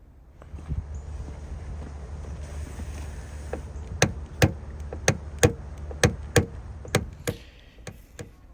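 Sharp metallic taps in a steady series, about one every half second, knocking down a dent in a 2022 Camaro door panel, close and distinct over a low background hum, no talking.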